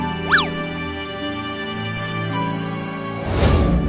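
A cartoon parrot chirps as it leaves its nest: a quick rising tweet, then a long wavering high whistle that ends in a soft rush of noise.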